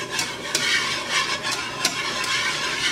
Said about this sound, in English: We're going to add the 1/4 cup of flour, and you just want to mix it in really well.